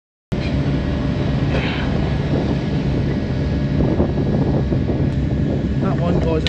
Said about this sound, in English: It's so goddamn bloody windy.